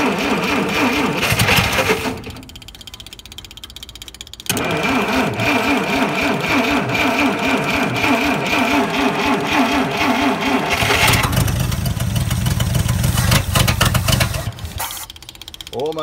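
A Dodge D300 Slant 6 military truck being cranked after sitting for twenty years, the starter churning in long rhythmic bursts with brief pauses between attempts and the engine nearly catching, loud and close.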